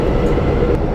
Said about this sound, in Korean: 열차는 타자마자 설레임을 안고 바로 출발합니다.